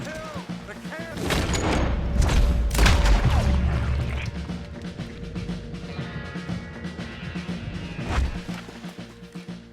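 Cannon fire in the video game Red Dead Redemption 2: several heavy, close booms over a dense bed of gunfire and battle clatter, with the loudest blasts clustered early and another near the end.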